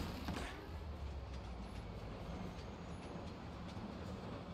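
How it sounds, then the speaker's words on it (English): A train rolls along its tracks without stopping in the video game Spider-Man: Miles Morales, a steady, dense rumble with faint clattering that carries at an even loudness from start to finish, with no voices. "The train's not stopping."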